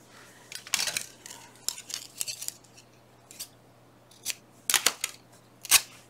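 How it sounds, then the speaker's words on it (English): Scissors snipping paper at a craft table, a series of close, crisp cuts in irregular bursts separated by brief pauses, over a faint low hum. "Scissors."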